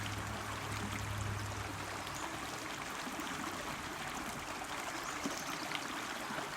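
A fast-flowing creek rushes steadily nearby, a continuous even hiss of moving water with no pauses and no voices.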